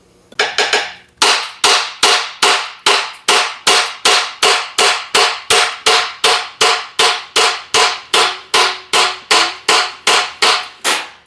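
Sharp, evenly spaced hammer blows, about twenty-five strikes in steady rhythm after a quick initial flurry, knocking the blower shroud off an old abandoned Wisconsin engine; loud and close with no talking.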